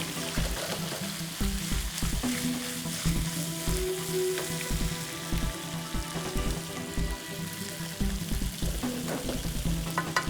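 Boiled potatoes frying in browned butter, a continuous close sizzle and crackle with repeated soft stirring knocks throughout, and no talking.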